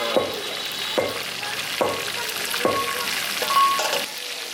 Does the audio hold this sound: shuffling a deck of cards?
no